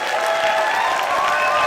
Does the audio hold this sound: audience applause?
yes